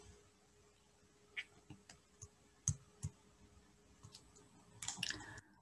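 Computer mouse clicking at a desk: several sharp, isolated clicks spaced irregularly over quiet background, close and fairly faint, with a small cluster of clicks near the end.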